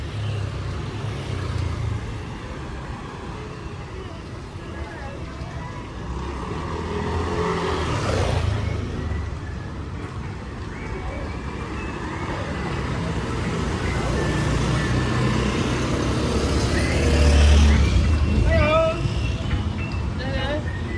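Motorbikes and traffic pass along Camplung Tanduk Street in Seminyak, Bali, a continuous roadway rumble with engines swelling and fading nearby while someone speaks over it.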